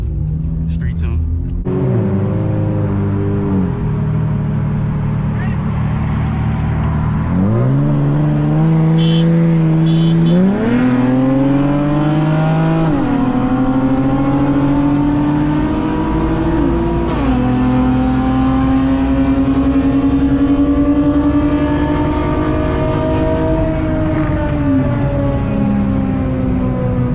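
A 9th-generation Honda Accord sedan with a custom street tune runs hard from a 40 mph roll, its engine climbing loudly through gears in rising sweeps with shifts between, heard from inside over a constant road rumble.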